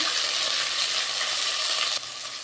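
Ginger paste with asafoetida, turmeric, cardamom and cloves frying in hot oil for a poppy-seed eggplant dish, a continuous close hissing sizzle that dips slightly near the end, no speech.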